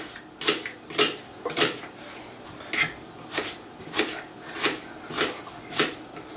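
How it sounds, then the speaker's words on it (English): Onions for marinated pork fajitas being chopped with a knife on a cutting board, a steady run of about ten crisp, close knocks at an even rhythm, with no voices. "So I'm just going to cut all of these onions up real quick."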